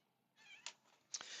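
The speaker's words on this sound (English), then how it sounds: "It's my kitty cat." A pet kitten meows twice indoors, a faint drawn-out mew followed by two sharper, louder cries close by, with no talking over it.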